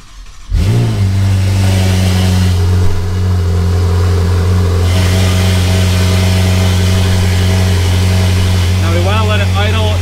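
Ferrari 488 twin-turbo V8 fires up after a brief crank with a loud burst, then settles into a steady, close, even cold-start idle; a voice comes in briefly near the end.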